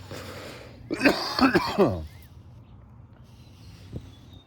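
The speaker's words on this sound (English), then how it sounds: "Pardon me for coughing into the mic" A couple of harsh, close coughs right into the mic, followed by quiet room noise and a faint click.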